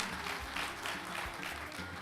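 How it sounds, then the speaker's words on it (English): An audience at a memorial lecture applauds, a dense, steady wash of clapping heard at moderate distance with a faint low hum beneath it. "A big round of applause,"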